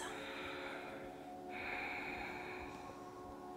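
Slow, deep breathing during a dynamic yoga flow class, a long airy inhale or exhale with a soft shift midway, close and fairly quiet with no talk.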